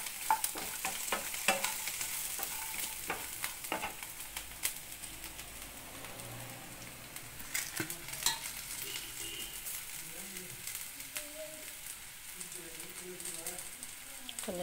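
Vegetables frying in a pan on low heat for a Tamil poricha kuzhambu, with soft crackling sizzle and occasional stirring clatter, talk heard alongside.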